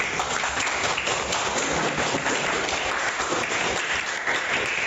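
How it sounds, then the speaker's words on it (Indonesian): Applause from a classroom of students during a mathematics lesson, steady dense clapping that fills the whole stretch at an even level with no talk over it. "Kasih aplaus dulu."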